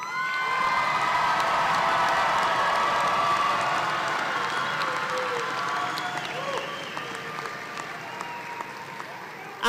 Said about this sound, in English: Please join me in one more great round of applause